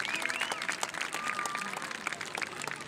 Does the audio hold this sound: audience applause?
yes